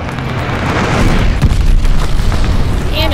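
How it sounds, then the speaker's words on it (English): A glide bomb explodes in the video game Call of Duty: Vanguard, producing a loud, sustained rumbling blast that fills the clip, with a short voice near the end. "Enemy's got a glide bomb incoming."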